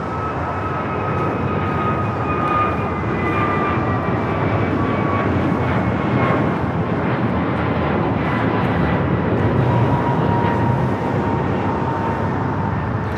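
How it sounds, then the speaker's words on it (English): An American Airlines Airbus A321neo takes off at LAX, giving a continuous loud roar of jet engines with a slowly falling whine across the full length, heard at a distance and without talking. "That is American Airlines Flight 3149 taking off to Miami, Florida on the A321neo."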